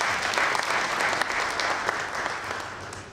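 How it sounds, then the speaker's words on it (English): An audience applauds a speaker after an inspiring talk, with steady, dense clapping from many hands filling the room, continuous and fairly loud with no voices over it. "Please let's give him another round of applause."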